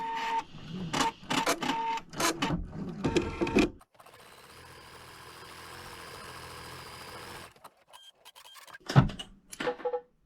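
An embroidery machine stitches applique on an Easter egg design, running as a steady mechanical whir in its middle stretch, framed by rapid clicking and stop-start needle bursts, close by with no talking.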